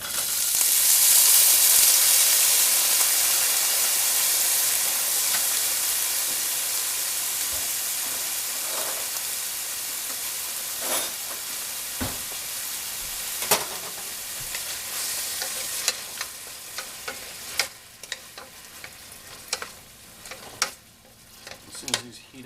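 Frozen onions hit a hot pan and erupt into a loud, hissing sizzle that gradually eases into steady frying, punctuated by sharp clicks and scrapes of a utensil stirring them, with no voices.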